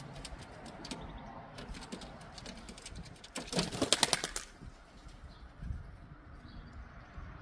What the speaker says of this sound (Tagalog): may dalawa tayo mga kalapatids